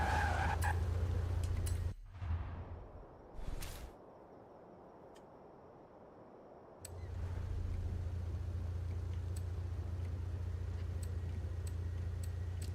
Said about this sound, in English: Man, that S58 engine sounds nice.